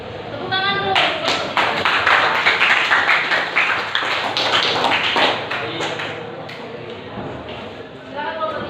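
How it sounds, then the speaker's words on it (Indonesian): A group of people at an Indonesian school academic supervision session claps hands together, a dense burst of applause that swells, holds for several seconds and then thins out, with voices mixed in. "Tepuk tangan dulu."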